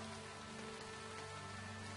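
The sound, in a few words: acid rain falling in the video game Starbound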